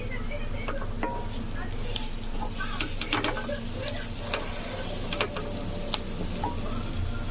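Shamagadda (taro) fry sizzles steadily in a pan while a utensil scrapes and stirs through it in irregular strokes, close and continuous.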